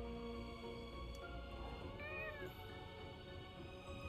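A horned cat-like creature (Carbuncle) meows in the video game Forspoken, one short rising-falling call over a steady bed of game music and ambience, fairly faint and without talk.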